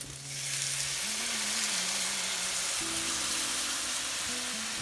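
Diced tomatoes and tomato paste go into a pan of cooked ground turkey for one-pot taco spaghetti, and a dense, even sizzle swells up and holds steady and close, with a faint low hum beneath.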